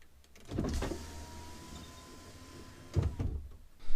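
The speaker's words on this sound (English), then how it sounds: "Just going to drop the window because it's fucking boiling in there" A car's electric power window slides down with a steady motor whir, bracketed by louder thumps and rattles at its start and finish, close by in a quiet cabin with no talking.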